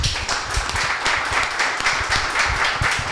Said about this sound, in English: Let's give them a round of applause again for bringing us together tonight.